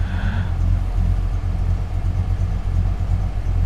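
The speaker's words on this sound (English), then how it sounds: "Plus, when the AC's on, it's at the perfect lope for the idle. Sounds mean." A 1967 Buick Special engine idles with a lumpy, uneven lope and the A/C running, a deep rumble heard close and steady throughout.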